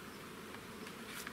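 Honey bees buzz steadily as they take off from frames of a small six-frame hive, a low continuous drone close by with no voices.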